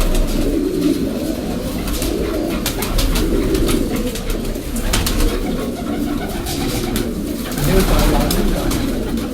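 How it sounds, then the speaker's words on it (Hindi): Sialkoti pigeons of the pearl-eyed breed coo and flutter in a loft, soft repeated coos layered under a busy, continuous background of rustling and faint distant voices. "एक और सियालकोटी कबूतर का वही ब्रीड दोबारा से दिखा रहे हैं आपको, मोतियों वाले"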